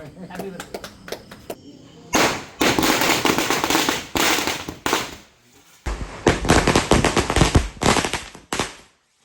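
Rapid bursts of firecrackers exploding in loud crackling volleys at a birthday celebration, with short pauses between strings of bangs and voices in the background.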